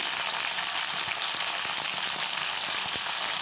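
Quartered ivy gourd (dondakaya) pieces fry in oil with a dense, even sizzle and faint crackle, heard close and alone.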